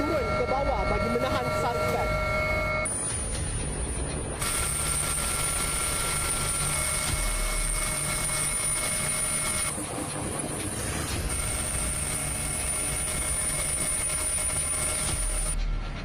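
Helicopter flying overhead during a marine police and maritime enforcement operation against crab smugglers off Kuala Langat, a steady loud rotor and engine drone running throughout, with tonal whine shifting partway, under faint voices.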